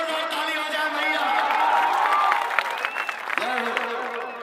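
A crowd at an outdoor political rally claps and cheers for a cricket player, a broad wash of applause mixed with voices and music over several seconds.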